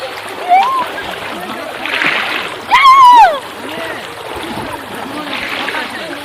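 People swim and splash in a river in Nepal, with irregular splashes and flowing water under lively nearby voices and shouts, one loud burst standing out midway.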